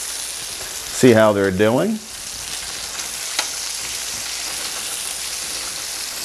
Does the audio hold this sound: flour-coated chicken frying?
yes